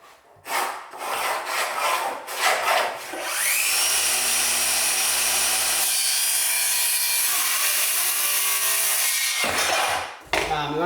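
Wood is cut to size with a saw: a few quick strokes at first, then a long continuous grinding cut that holds steady before stopping abruptly, close to the microphone.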